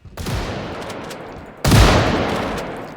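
Double-barrel shotgun fired in the Project Zomboid video game: two loud close blasts about a second and a half apart, each with a long decaying tail.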